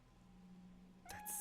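A cat meows in the horror video game Fatal Frame 3, a short, close cry arriving near the end over a steady low ambient drone.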